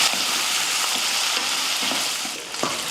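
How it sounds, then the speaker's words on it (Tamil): Shallots and curry leaves sauté in oil for a mutton fry, giving a close, dense sizzle with intermittent stirring scrapes throughout, no voices. "சின்ன வெங்காயம் கருவேப்பில் சேர்த்து வதக்கிடுவோம்"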